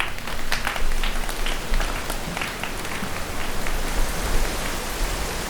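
Sustained hand clapping imitating a heavy rain downpour, a dense, steady patter of claps that holds at an even loudness throughout, with no talk.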